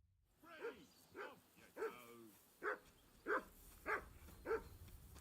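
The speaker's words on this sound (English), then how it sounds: "Hey, call off that dog and then we can talk." Dog barking in the medieval role-playing game Kingdom Come Deliverance 2: about nine evenly spaced, fairly faint barks in a steady rhythm over a low background.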